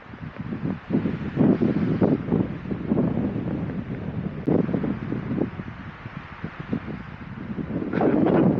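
Strong wind on the summit of Rysianka mountain in Poland buffets the microphone in loud, uneven gusts, rumbling and roaring throughout.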